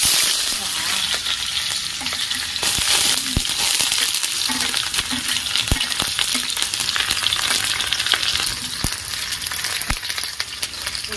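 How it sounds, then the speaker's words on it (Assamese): Onions poured into a hot pan of meat fry with a steady, dense sizzle and crackle, close and fairly loud, broken by occasional sharp clicks and stirring knocks, with no talking. "আৰু এতিয়া দিওঁ পিঁয়াজ ঢালি।"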